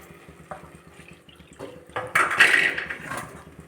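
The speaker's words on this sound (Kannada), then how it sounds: "ಸ್ವಲ್ಪ ನೀರು ಒಂದು ಕಪ್ ನೀರು ಎಕ್ಸ್ಟ್ರಾ ಹಾಕ್ತೀವಿ" A few light clinks of a pot come first, then water splashes and pours into it for about a second and a half, while cooking bisi bele bath.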